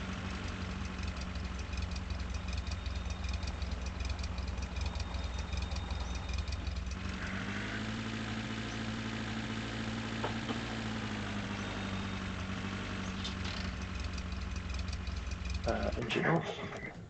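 Car engine idling in The Long Drive video game, a steady low mechanical hum with harmonic drone running throughout, shifting slightly midway, with a brief clunk near the end and talk over the top.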